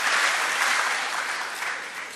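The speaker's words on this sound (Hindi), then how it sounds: "अगर आप लोग ज़ोरदार तालियों से इस्तकबाल करें तो मोहब्बत।" Loud, dense audience applause at a gathering, a continuous roar of many hands clapping that holds strong throughout and eases slightly at the end.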